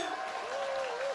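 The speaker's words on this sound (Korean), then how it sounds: "박수가 터져나오고 그렇습니다" Crowd applauding as a super lightweight boxing champion is introduced at a Korean title match at Haeundae Beach, Busan, a brief, fairly faint burst of clapping under commentary talk.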